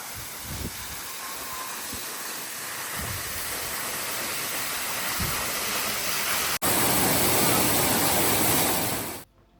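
Angels waterfall in Madeira pours in a continuous, dense rushing roar heard close up, swelling louder near the end before cutting off abruptly.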